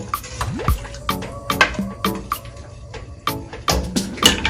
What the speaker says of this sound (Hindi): अब जो है हम साथ में पानी डाल देंगे। तकरीबन मैं 6 कप्स के बराबर पानी डालूंगी इसमें।